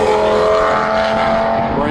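A race car, among GT3 RS, GT500 and TT RS entries, runs loud on the track at Summit Point with a sustained engine drone and tonal whine, close and constant throughout, under a voice.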